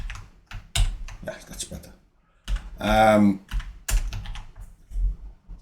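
Computer keyboard keys clack in short bursts of close typing, scattered between a man's speech.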